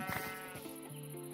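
Sheep bleating in the video game Minecraft, a short wavering nasal bleat, fairly faint and alone, with no talking over it.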